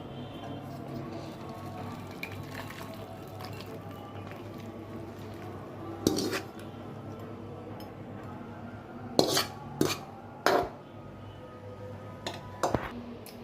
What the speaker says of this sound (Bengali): চুলা নিভিয়ে দিলাম, তরকারি নিয়ে নিচ্ছি।